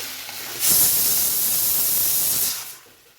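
Chopped tomatoes dropped onto softened onion in a hot pan for a kulambu, setting off a sudden loud hissing sizzle that holds for about two seconds, then fades.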